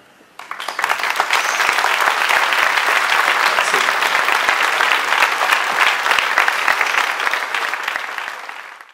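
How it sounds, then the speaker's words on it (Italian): Solemn applause from a crowd at a silent march in Albenga near a victim's home, steady sustained clapping from many people outdoors, rising quickly and fading away at the end. "un mesto applauso nei pressi della sua abitazione"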